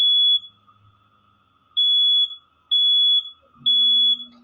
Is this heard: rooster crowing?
no